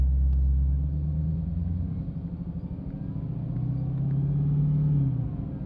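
A Dodge Hellcat in sport mode launches with a deep, loud engine rumble that swells, eases, then builds again as the car pulls away, close and steady with no talk.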